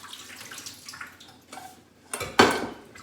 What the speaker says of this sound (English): Now just drain the water.